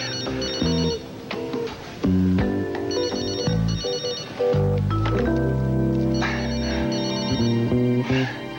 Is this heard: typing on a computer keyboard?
no